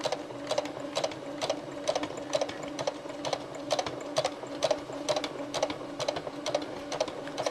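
Sewing machine stitching small stitches through fabric around the neck of a rocking horse, a close, rapid, rhythmic mechanical clatter running in short even bursts with no talk.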